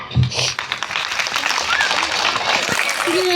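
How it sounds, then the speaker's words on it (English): A crowd at a school Mahashivratri celebration applauds with a dense wash of clapping, while voices murmur and chatter underneath. "Please have a big clap."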